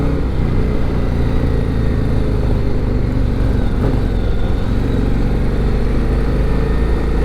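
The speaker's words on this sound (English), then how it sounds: "the bike sounds good." A 2023 Harley-Davidson CVO motorcycle engine running with a loud, steady low rumble throughout, recorded close, likely while riding, without speech.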